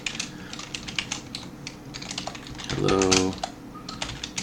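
Fingers type JavaScript on a computer keyboard, a run of quick, close clicks with a burst of faster keystrokes near the end; a voice speaks briefly over them.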